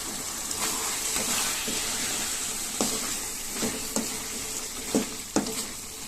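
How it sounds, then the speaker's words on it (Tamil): A spoon stirs chicken gravy masala with garam masala in a hot pan, a steady sizzle with scraping strokes that grow sharper toward the end. "இது கூடவே ஒரு 1/2 ஸ்பூன் கரம் மசாலாவும் சேர்த்து நல்லா மிக்ஸ் பண்ணிக்குவோம்"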